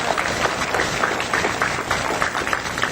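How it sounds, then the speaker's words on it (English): An audience at a political conference gives a dense, sustained round of clapping from a roomful of people, loud and continuous throughout. "Give yourself a round of applause"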